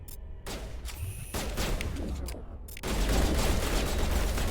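Shotgun blasts ring out in a firefight in Mass Effect Legendary Edition, several loud booming shots in quick bursts amid chaotic battle noise, with no talk.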